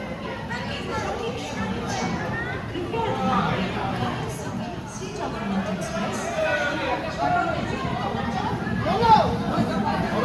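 A dense crowd boarding the Jagannath Express at Shalimar station makes a continuous babble of overlapping voices and movement, with a person talking over it nearby.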